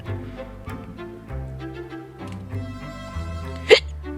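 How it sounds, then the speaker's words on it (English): A single sharp hiccup bursts out loud and close near the end, after a stretch of quiet tonal background sound. "I got the hiccups."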